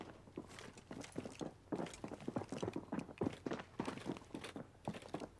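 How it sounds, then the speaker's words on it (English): Rapid, soft footfalls of players approaching in Call of Duty: Warzone, a steady patter of thuds and scuffs at close-to-mid distance over low game ambience, with no talk. "I hear someone coming."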